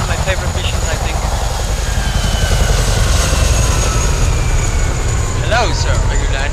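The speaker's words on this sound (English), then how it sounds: "Helicopter!" Helicopter in the video game Hitman Absolution, a loud, constant rotor and engine roar that dominates throughout, with a voice briefly heard over it near the end.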